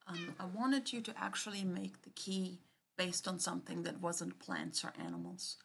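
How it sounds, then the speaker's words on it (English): A hungry cat meows close by, its calls tangled with continuous nearby speech that dominates throughout. "excuse the cat that's meowing next to me"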